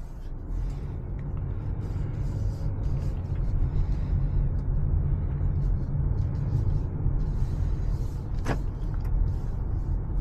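A 2024 Subaru Forester Touring is driven at low speed, with a steady, subdued low rumble of engine and road noise inside the cabin and one brief sharp click partway through.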